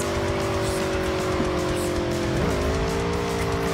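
A car drifts in the Cyberpunk video game, with a sustained engine drone and a long, steady tire squeal that wavers briefly mid-slide, heard close and continuous.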